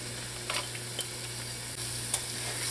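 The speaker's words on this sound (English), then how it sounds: "Just saute until the onions are very tender." Chopped onions and peppers sautéing in butter give a steady, low sizzle, with occasional light stirring taps against the pan, close and alone.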